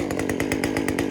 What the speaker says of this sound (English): I'm gonna fire it up, see what we think, do some comparisons